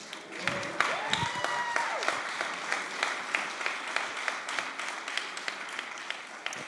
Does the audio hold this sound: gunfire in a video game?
no